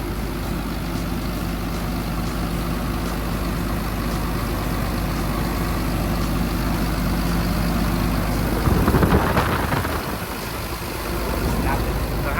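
A 2013 Caterpillar 320D 20-ton excavator with a C6.4 six-cylinder turbo diesel running smoothly, a steady close low drone throughout that swells briefly near the end.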